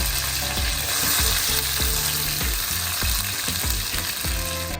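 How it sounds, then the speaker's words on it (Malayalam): Chicken pieces for biryani fry in hot oil, a loud, steady sizzle filling the clip, with repeated soft knocks of stirring and turning in the pan. "ചിക്കൻ പീസ് എല്ലാം ഞാൻ ഇതാ വറുത്ത് കോരണം കേട്ടോ"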